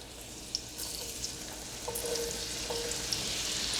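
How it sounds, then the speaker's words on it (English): Bacon sizzles and crackles steadily in a pan, close up, with occasional sharper pops and no talking. "And you can hear the sizzle."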